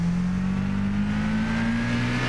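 Lotus Elise engine in Gran Turismo 6 at Brands Hatch, a continuous loud drone with its pitch rising steadily as the car accelerates, heard alone.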